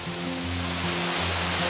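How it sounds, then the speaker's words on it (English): Machine Falls, a very tall waterfall pouring over rocks on a Tennessee trail, gives a steady, broad rushing roar that holds evenly throughout, with a low hum running beneath it. "Very tall waterfall."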